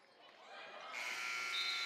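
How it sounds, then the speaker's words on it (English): A basketball buzzer rises and sustains as a steady electronic tone at a women's college basketball game, growing louder over about two seconds with arena ambience beneath. "And the buzzer beater attempt from Montigny is no good."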